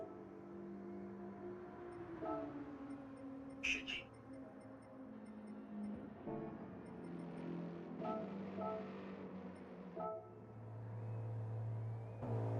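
A GR4 race car in Gran Turismo 7 circles the Kyoto track on hard tyres, its engine droning and shifting pitch as it accelerates and brakes, moderately loud with faint talk underneath.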